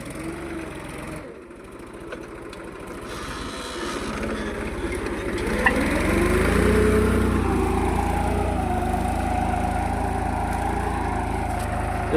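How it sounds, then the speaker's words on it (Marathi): A New Holland Super Plus tractor ploughs a field, its engine giving a continuous, close, rumbling drone that steadies and grows slightly louder as the plough bites. "ते 2x2 मध्ये आहे बघा ट्रॅक्टर मित्रांनो. एकदम नंबर 1. नांगर पण व्यवस्थित लागला बघा."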